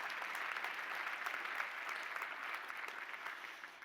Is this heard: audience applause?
yes